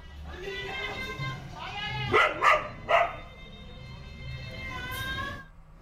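A dog fighting a cobra gives three quick, loud barks in a cluster at a house, with people's voices and whining tones around them.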